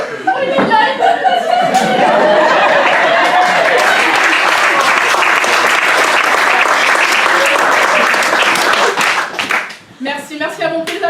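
Loud, dense applause from a comedy show audience swells after a French-speaking comedian's line, mixed with chuckles and laughter, then cuts off as his voice returns near the end.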